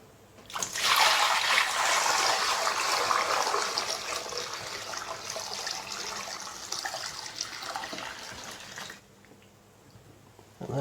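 Water from a tap pours steadily into a plugged kitchen sink with a big pour spout, a loud continuous splashing rush that runs for about eight seconds and then cuts off.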